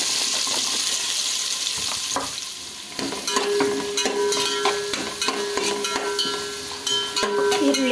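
Onion sautéing in about four spoons of oil, a steady loud sizzle broken by frequent clanking stirs and scrapes of a spoon against the pan.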